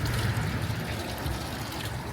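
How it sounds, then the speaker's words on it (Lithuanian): Drinking water trickles steadily from a bear-shaped fountain, a close, continuous splashing stream with a low watery rumble and no break. "Ir dar pažiūrėk, iš kur bėga tas vanduo. Iš meškos."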